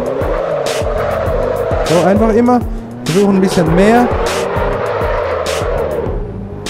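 Tires squeal in wavering, rising and falling howls as a car drifts under a steady engine drone in Assetto Corsa, with someone talking over the sliding.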